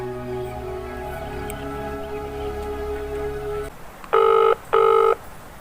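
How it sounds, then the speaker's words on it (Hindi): Two short electronic telephone tones ring out loudly after a stretch of steady musical hum, in a rural Hindi comedy skit where a call is being placed to a landlord. "उनको फोन लगाती"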